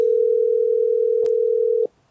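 Steady telephone dial tone after a dropped call on a live prayer phone line, a single continuous hum with one faint click partway through before it cuts off abruptly.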